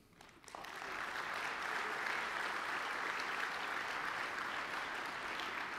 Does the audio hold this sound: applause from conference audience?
yes